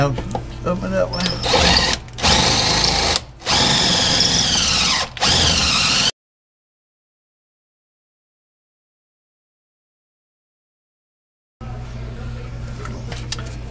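A power drill boring through metal for a Curt hitch on a 2005 Dodge Sprinter T1N, three loud whining bursts with short gaps, close, then a silent stretch and a quieter resumption with a person speaking.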